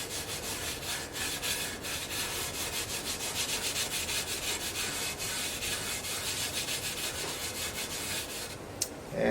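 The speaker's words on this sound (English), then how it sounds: "The wire brush. And the Brillo pad." A garden tool gets scrubbed with a wire brush and a Brillo pad, giving steady rhythmic back-and-forth rasping strokes up close, with a brief sharp knock near the end and no talking.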